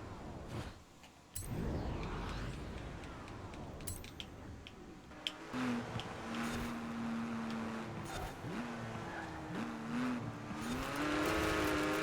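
A Porsche 911 Carrera 2 Guntherwerks, a rear-wheel-drive car in Forza Horizon 4, roars continuously as it drives, its engine note rising and shifting through gears with sharp blips and a steady loud drone.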